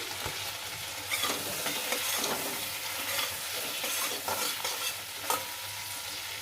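Prawns for a prawn malai curry sizzle steadily in oil in a pan while being stirred and turned, with scraping strokes and a constant, close, even frying hiss.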